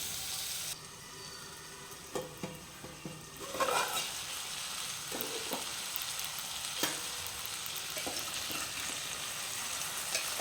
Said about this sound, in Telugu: కొద్దిసేపు అట్లే వదిలేయాలి, ఫ్రై అవుతూ ఉంటుంది